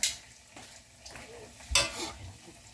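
Food sizzles and crackles in a hot pan, with a few louder spatters and a light clink of utensils partway through.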